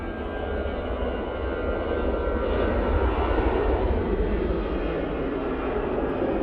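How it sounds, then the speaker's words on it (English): easyJet Airbus A320ceo jet engines spooling up at an airport, a broad, steady roar that swells slightly and holds, heard from a distance without voices. "EasyJet we can hear spooling up now is the one that going to Durban."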